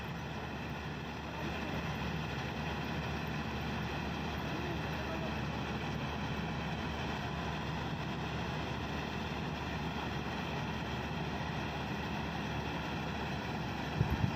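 A rice harvester runs in a paddy field, cutting the crop with a steady, droning engine hum and a broad mechanical roar. The sound stays constant and close throughout, with a few sharp knocks at the very end.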